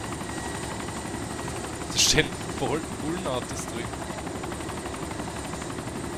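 Helicopter in the DayZ video game, a steady rotor drone running throughout at a constant level while voices talk over it.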